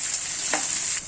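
Onion frying in a hot pan for a brinjal masala curry, a brief close burst of sizzling and crackling with a soft stir in the middle.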